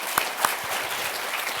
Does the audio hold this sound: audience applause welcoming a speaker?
yes